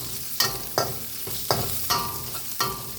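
Onions frying in a pan, a continuous sizzle marked by about six evenly spaced stirring scrapes, close and clear with nobody talking.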